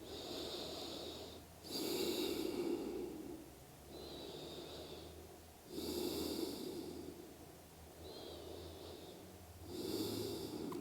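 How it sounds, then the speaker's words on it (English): Slow, deep yoga breaths alternate between long inhales and exhales, roughly three full cycles, audible and close with a breathy, slightly nasal rasp and no talking. "And just a few more breaths in this shape."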